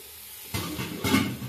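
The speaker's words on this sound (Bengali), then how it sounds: "এবার আমি সবজিগুলো দিয়ে দিচ্ছি।" Vegetables for a thin winter vegetable khichuri hit a pan of fried spices, a soft sizzle jumping louder partway through and again near the end as they are stirred in, close and alone.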